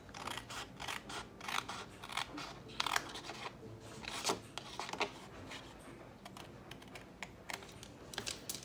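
Scissors cut cereal box cardboard along a score line, giving a quiet, irregular run of crisp snips and crunches close up with no talking.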